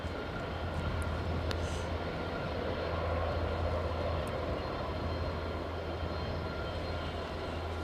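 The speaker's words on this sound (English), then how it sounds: "that's a Eastern Airways Jetstream 41" An Eastern Airways Jetstream 41 turboprop inbound at Aberdeen airport hums and drones steadily at a distance, a fairly faint, continuous engine rumble. There are a few light clicks and no speech.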